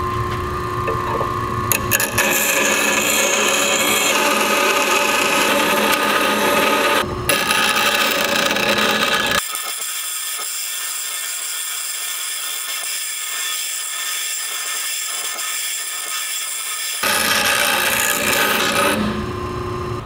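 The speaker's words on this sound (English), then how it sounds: "now we're gonna file down edges or grind them until they're perfect" A hand file rasps along the metal edges of a high school metalwork can punch and bottle opener, giving steady close strokes that ease into a quieter, thinner stretch before the full scraping resumes.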